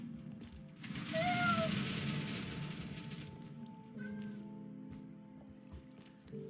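A Minecraft cat lets out a drawn-out meow followed by a shorter second meow, heard over a low rumbling mechanical background.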